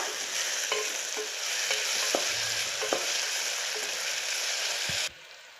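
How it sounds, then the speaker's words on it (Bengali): Onions lightly frying in a pan with salt, a steady close sizzle broken by scraping stirs and soft utensil taps, ending abruptly. "পেঁয়াজগুলো হালকা করে ভাজবো।"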